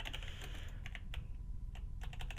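Quick, irregular keystrokes on a computer keyboard while a password prompt is entered, close and fairly quiet, with bursts of clicks separated by short pauses over a low steady hum.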